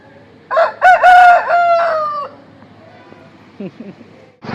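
A rooster near a temple at the Koragajja shrine outside Mangalore crows one loud, full cock-a-doodle-doo lasting about two seconds, followed by faint, soft clucks against quiet outdoor background noise.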